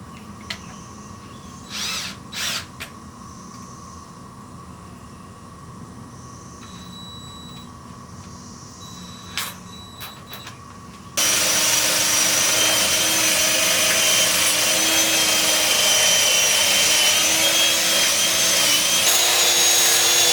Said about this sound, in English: I'm gonna take this wire wheel I got and